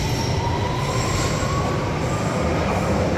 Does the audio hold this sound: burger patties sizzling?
no